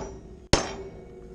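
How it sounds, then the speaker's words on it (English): A hammer strikes a bolt once, tapping it down on a pressure-wash trailer frame under construction, a single loud sharp metallic hit after a brief silence, ringing off quickly into low background hum. "I'm gonna take my hammer and tap this down"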